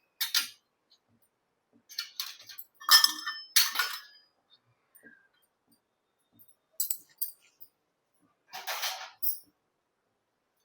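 Fennel, cumin, mustard and fenugreek seeds are stirred in a dry pan on a gas stove, with scattered light clinks and rattles of metal in short bursts separated by near silence.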